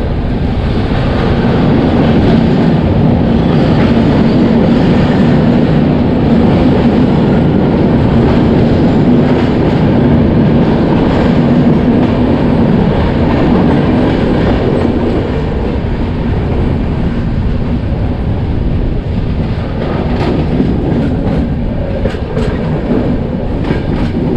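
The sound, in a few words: Purba Express train running through tunnels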